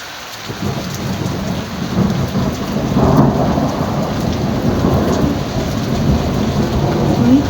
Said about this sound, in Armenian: ամպը գոռում է, լավ է բարակ անձրևը